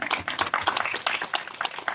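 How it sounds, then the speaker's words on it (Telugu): An audience at a rangoli competition claps for a girl, quick scattered claps from several people in short uneven bursts, close and fairly loud. "అమ్మాయికి మరొక్కసారి క్లాప్స్ అందరం"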